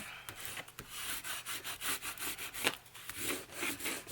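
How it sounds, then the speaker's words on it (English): Paper is rubbed down by hand onto a journal page so it makes good contact, a close, dry scuffing in quick back-and-forth strokes that repeats steadily with no talking. "I'm just rubbing this down so it makes good contact"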